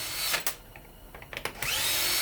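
A cordless power drill whines in short bursts while driving screws into the back of a fan being torn down, with several quick spins separated by brief pauses, close by.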